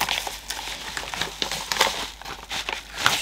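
A padded parcel envelope being torn open and crinkled, with close, continuous crackling and crumpling rustles throughout and brief louder bursts.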